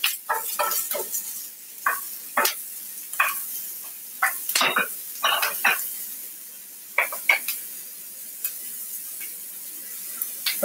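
Onions cooking in a pan to caramelize give a soft background sizzle, broken by repeated scraping and clinking stirs of a utensil against the pan, close and intermittent.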